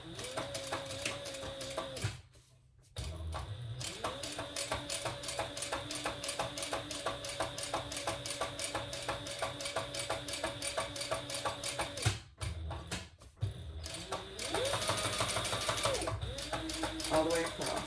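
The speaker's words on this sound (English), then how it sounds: "we're going to top stitch on the lining piece through that seam" A sewing machine topstitches through the lining seam of a sling bag, running in long steady bursts of rapid clattering with a couple of short pauses, close and fairly loud.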